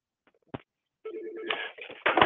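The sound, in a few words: office telephone ringing on 3CX phone system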